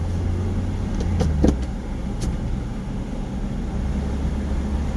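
A manual-transmission car is heard from inside as it downshifts to second and brakes to a stop at a stop sign. The engine and road noise make a steady low drone, with a few brief clicks and knocks partway through.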